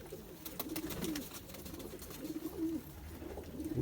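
Zeera pigeons coo in soft, repeated low phrases, a male with a female, with about three rounded coo bursts spaced through the stretch against faint outdoor background noise.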